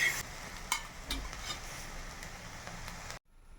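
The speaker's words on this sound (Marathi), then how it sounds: "तुरीचे दाणे असे भाजून घ्यायचे तव्यावर. याला काळे डाग पडतपर्यंत भाजायचे." Pigeon pea seeds dry-roast on a hot tawa, with soft stirring scrapes and light crackling over a faint sizzle, close and quiet, then cut off abruptly near the end.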